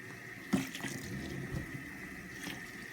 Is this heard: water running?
yes